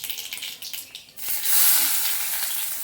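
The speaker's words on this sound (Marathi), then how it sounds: "मोहरी जिरे चटडायला लागलेले आहेत" Mustard and cumin seeds crackle and spit in hot oil for kande pohe, a bright steady sizzle that swells after a quieter start with a few faint clinks.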